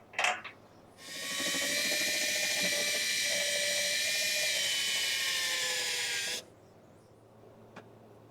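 A drill bit bores through a plastic fuel tank on a zero turn mower, a loud steady high whine lasting about five seconds, starting after a short knock and stopping abruptly, with quiet room noise around it.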